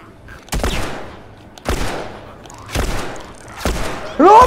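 Gunfire in The Last of Us Remastered: four heavy, booming shots spaced about a second apart, each with a decaying tail, followed by a short vocal outburst.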